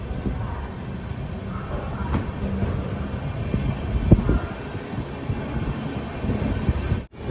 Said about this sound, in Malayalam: അഹമ്മദാബാദിലേക്ക് ഇതാ 2 ട്രെയിനുകളും ഒരുപോലെ പോവുകയാണ്.